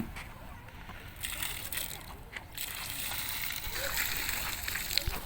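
Water is poured onto palm plants outdoors, giving a continuous soft splashing and sloshing with some faint clattering, heard under low background voices.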